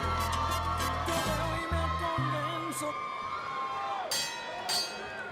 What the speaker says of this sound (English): his crowd, his family, everybody's cheering for him